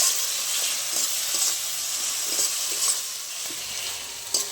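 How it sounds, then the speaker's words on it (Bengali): Mustard paste, salt and turmeric spice mix frying together in a pan for a Bengali fish curry: a steady, moderately loud sizzle with soft stirring scrapes and small crackles, no talk. "এবার সব ভালো করে একসাথে ভেজে নেব।"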